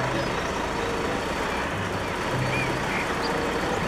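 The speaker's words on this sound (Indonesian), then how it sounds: "Wih, mobil molen super besar." A very large concrete mixer truck rumbles steadily nearby, a constant broadband engine drone with faint tonal hums, no clear speech over it.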